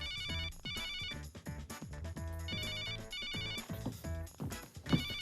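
A telephone rings with a bright electronic ringtone, its trilling pattern repeating over and over against a busy musical backdrop.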